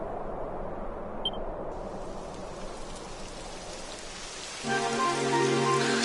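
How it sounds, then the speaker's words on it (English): Rain falls in Dragon Quest XI as a steady, loud hiss, and a sustained tonal musical layer joins it toward the end. "It would have to go and start raining, wouldn't it?"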